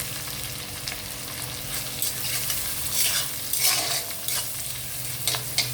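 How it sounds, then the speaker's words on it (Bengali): Onion frying in a pan, a steady close sizzle broken by repeated scraping stirs, with no talk. "আমি পেঁয়াজটা সামান্য একটু ভাজবো"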